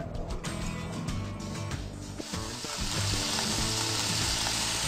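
Olive oil sizzles in a heated frying pan on the stove, a steady hiss and crackle that grows slightly louder partway through, with no voices heard.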